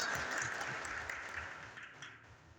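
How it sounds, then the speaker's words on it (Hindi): Applause welcomes a guest at a political rally, a broad, fairly distant clatter of clapping from a crowd that holds steady and then thins toward the end, with no voices over it. "का जोरदार ताली के साथ स्वागत करें।"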